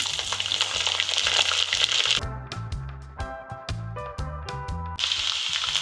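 Garlic drops into hot oil for an okra pickle and sizzles loudly at first, then crackles and pops unevenly before the bright frying hiss swells back up near the end.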